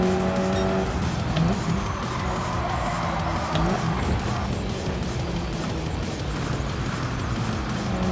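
Race car in Gran Turismo 7 with traction control and ABS on, engine droning steadily through a lap with tire squeal in the corners, loud and continuous with no talking.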